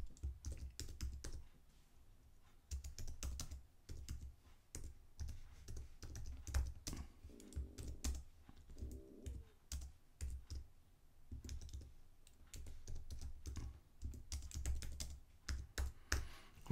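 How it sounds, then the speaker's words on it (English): Keys clatter on a computer keyboard in quick, uneven bursts of close, quiet typing with short pauses between runs. "We could type in our question in here."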